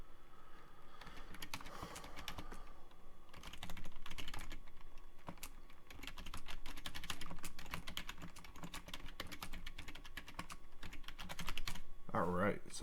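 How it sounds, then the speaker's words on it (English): Steady typing on a computer keyboard, dense runs of close key clicks going on for about twelve seconds, with brief pauses and a louder clatter near the end. "And we'll type in the directions."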